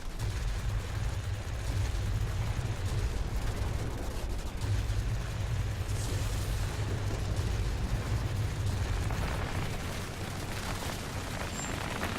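Rockets exploding in World of Warplanes with an IL-2 aircraft, a steady deep roar and rumble of blasts running without a break from start to finish, with no talking.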